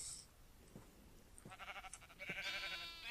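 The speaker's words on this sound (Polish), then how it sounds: "Dwie owce tak szybko? Dziwne." Sheep in the Minecraft video game giving a few short bleats, one sharp cry near the end, spaced over a quiet background with soft clicks.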